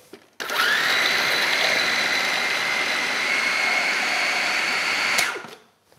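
A food processor purees roasted vegetables with olive oil for muhammara. It runs as one steady, loud whirring drone with a high whine for about five seconds, then winds down and stops, with no talk.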